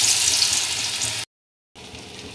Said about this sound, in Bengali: তেল গরম হয়ে গেছে, এবারে আমরা ছোট ছোট করে বড়া ভাজবো